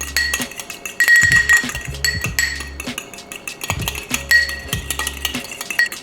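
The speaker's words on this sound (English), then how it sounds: "I'm just going to go ahead and mix this with my fork, whisk it up here." A fork whisking egg in a dish, rapid repeated clinks and scrapes of metal against the bowl in loud, close bursts with short pauses between strokes.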